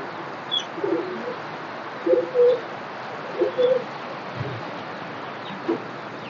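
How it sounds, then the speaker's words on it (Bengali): Pigeons coo in a few soft, separate bursts during steady rain, their low calls rising briefly above a constant broadband patter of falling water. "দেখেন কবুতর সব রেস্টে রয়েছে আলহামদুলিল্লাহ"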